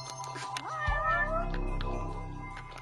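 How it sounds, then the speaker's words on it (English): A cat meows within a video game, a drawn-out rising call rolling into a longer wavering meow, close and clear over a low steady hum of game background sound, with no talk. "Oh look, a cat."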